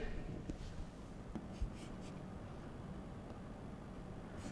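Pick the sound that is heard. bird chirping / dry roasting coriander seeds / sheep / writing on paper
writing on paper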